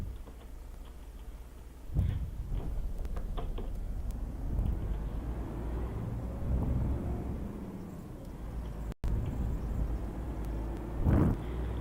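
A heavy truck in Euro Truck Simulator 2 drives on with a steady low engine drone, its pitch dipping and climbing through gear shifts while skipping two gears at a time, with a couple of brief louder bumps along the way.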